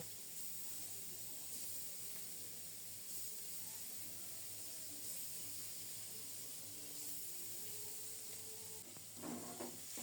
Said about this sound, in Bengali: ইলিশের ঝাটকাগুলোকে লবণ হলুদ মাখিয়ে রেখেছি এই তেলেই ভেজে নিচ্ছি